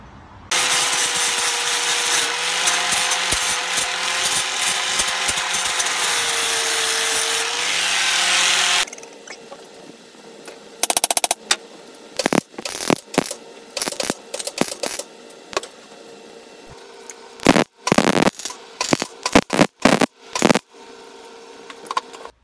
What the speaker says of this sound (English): he's going to do some welding for me because I can't weld